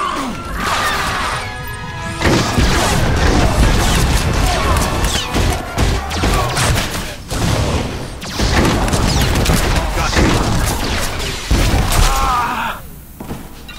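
Blaster gunfire in a Star Wars: The Old Republic trooper cutscene, loud dense bursts of shots and crashes firing almost nonstop over about eleven seconds, with brief gaps and a faint voice near the start.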